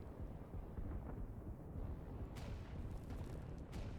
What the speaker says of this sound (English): Okay, we hear a bunch of explosions.